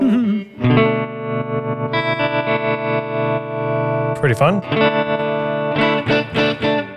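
An electric guitar plays sustained chords through a tremolo pedal, its pulsing throb changing speed as an expression pedal sweeps the rate, with a brief spoken remark over it.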